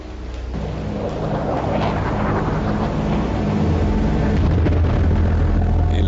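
Explosions from the air raids that opened Operation Desert Storm in January 1991 swell into a heavy, rolling rumble, with deep booms building and merging into a sustained roar.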